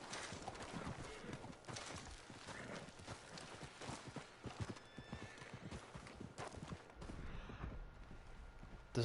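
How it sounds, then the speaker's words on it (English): Horse hooves clip-clopping in the video game Red Dead Online, a steady close rhythm of hoof falls with an occasional snort or whinny and some background game noise. "this horse seems to have calmed down a little bit"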